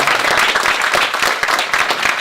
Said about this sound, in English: I just have to ask everyone to give a round of applause to AutoTrader